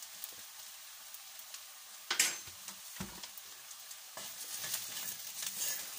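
Flour cooks in a pan with vegetables and soy for a vegan bourguignon, a soft quiet sizzle broken by a few sharp stirring scrapes and clinks of a utensil against the pan.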